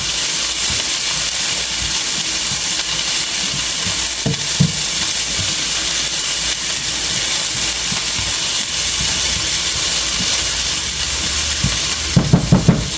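Garlic fries in a pan with a steady, close, broadband sizzle and hiss throughout, with soft stirring scrapes and a few sharp clatters near the end.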